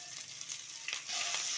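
Curry leaves, grated ginger and chopped green chilli hit hot oil with a soft, steady sizzle, punctuated by a couple of brief crackling bursts as they land.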